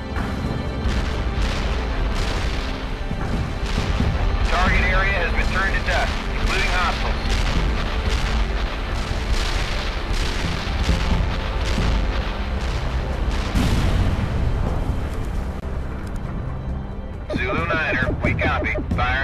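Artillery fire in the video game World in Conflict, repeated heavy booms and rumbling explosions rolling one after another over a dense battle din, with a voice talking over the barrage.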